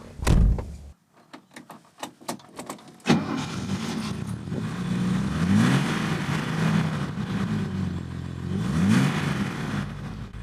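A 1967 Mercedes 250SL Pagoda engine revs while driving, rising and falling in two clear surges after a door-like thump and a few clicks at the start, steady and moderately loud throughout.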